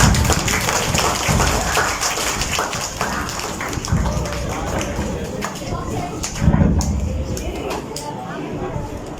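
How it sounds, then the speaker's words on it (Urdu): Sustained applause from a school audience at an Eid Milan party, a dense patter of many hands clapping throughout with a brief louder burst near the end. "آپ کی بھرپور تالیوں میں"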